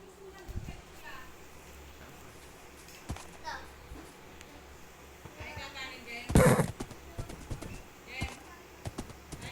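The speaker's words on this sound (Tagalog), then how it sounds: "Uy, kaninong kabayo to?" Horse hooves clip-clop in the Minecraft video game, faint scattered steps heard under children talking in Filipino, with one louder burst partway through.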